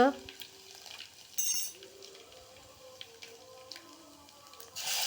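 Curry leaves, garlic and hing hitting hot oil on low heat give a quiet close sizzle with short crackles, a brief bright burst near the start and another at the end, and a few faint utensil clinks.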